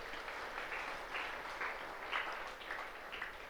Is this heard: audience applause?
yes